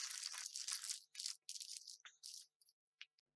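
Cardboard tiles from the Akropolis board game are shuffled by hand, a close series of dry, crinkly scraping and rustling bursts that grow shorter and sparser as the shuffle winds down.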